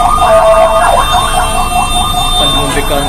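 A Siloam ambulance siren wails loud and close in city traffic, its warbling tone cycling continuously over the rumble of vehicles.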